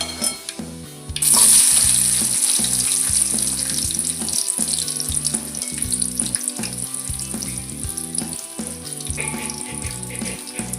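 Chopped onions drop into hot oil already crackling with mustard seeds and cumin, bursting into a loud, steady sizzle that continues over a background of rhythmic music.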